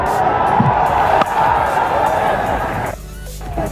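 Loud, noisy cricket stadium crowd at a 1992 World Cup India versus Pakistan match roaring and cheering continuously, a dense wash of many voices with a brief sharp knock partway through and commentary underneath.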